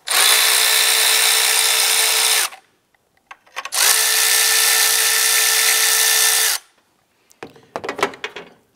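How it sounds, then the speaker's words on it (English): Power driver with a 10 mm socket loosening battery hold-down J bolt nuts on a 2008-2013 Nissan Rogue: two loud bursts of whirring, each a few seconds long, separated by a pause, then light clinking of parts. "Using a 10 millimeter socket, we're going to go ahead and loosen the nuts on our J bolt for our battery hold down."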